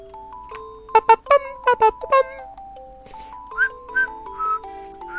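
A person tries to whistle, producing a series of short, breathy, wavering whistled notes that rise and fall unsteadily, close up over soft background music.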